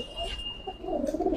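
Pigeons in a fancy-breed loft give a short, soft coo, faint and close, with no talking.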